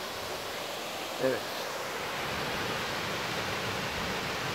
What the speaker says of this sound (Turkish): Şelaleyi size doya doya çekeyim.